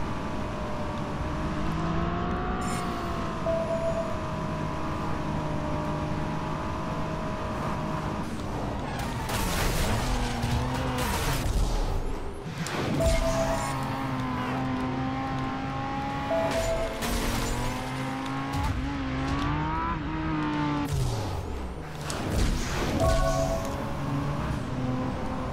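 A Lamborghini Gallardo in Driver: San Francisco, its engine droning with rising and falling gear changes, revving, passing noises and occasional tyre squeal over a steady driving hum.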